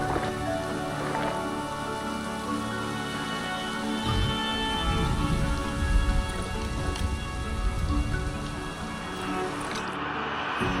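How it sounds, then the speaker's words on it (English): Steady rain in the video game Planet Zoo patters continuously on surfaces, a dense hiss of drops with a faint low rumble underneath, then it cuts off abruptly at the end. "The rain is making it very hard to see."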